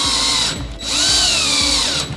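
Power drill driving 1/2-inch flathead screws into an L bracket on a base corner cabinet: two loud close whirring bursts, the second rising in pitch, separated by a short pause.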